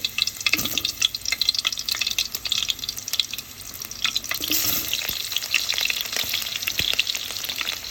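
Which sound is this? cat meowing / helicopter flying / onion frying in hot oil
onion frying in hot oil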